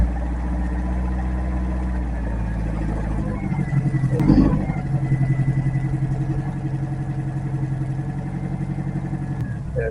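MGB Roadster engine running close by, a steady low idle that rises into a brief rev with a short clatter near the middle, then holds a slightly higher, pulsing idle.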